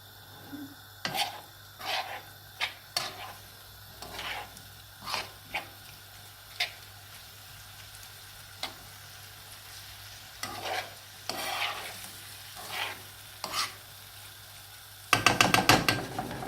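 Fish curry sauce with tomato pulp sizzles in a pan over raised heat, a low steady hiss under repeated scraping stir strokes, ending in a quick rattling clatter of the utensil against the pan.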